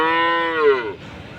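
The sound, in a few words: Khillari oxen mooing at a cattle market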